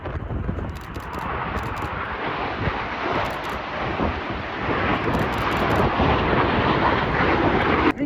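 Red Arrows jets flying a corkscrew formation at an air show on a windy day, a broad, continuous jet roar that builds slowly over several seconds, heard from a distance through wind buffeting the microphone.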